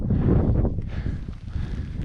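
Strong, cold mountain wind on a ridge climb toward the Forcella and Pizzo Alto in the Lagorai range. It buffets the microphone with a loud, rough rumble that surges at the start and then keeps gusting unevenly.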